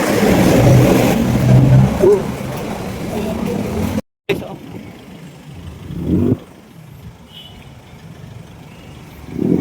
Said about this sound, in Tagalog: Sunod-sunod yung mga motor ano dito.